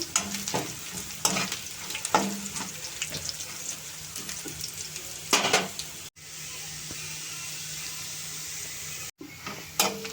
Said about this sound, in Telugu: ఉల్లిపాయలు ఇంత ఎర్రగా వేగాలి బాగా ఎర్రగా వేగితేనే బాగుంటాయి